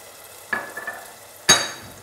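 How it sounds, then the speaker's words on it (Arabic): Onions fry in a pan, with two short, sharp bursts of sizzling as they are stirred and a faint crackle in between, heard close and with no one speaking. "ما البصل تاعي راهو يتقلى"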